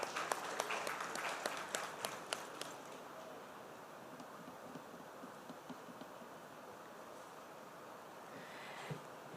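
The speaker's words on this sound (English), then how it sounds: "Ladies and gentlemen, a big round of applause" Seminar audience at a road safety event applauding a felicitation award, a burst of fairly close, crisp clapping at the start that settles into a quieter, distant, sustained patter for several seconds.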